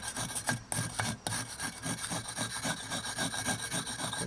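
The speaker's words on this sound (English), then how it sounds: "take a flat cold chisel and get those high parts off of it" Flat cold chisel scraping high spots off the inside of a two-brick forge, a rhythmic, rasping grind of steel on brick repeated in quick even strokes, close and fairly loud.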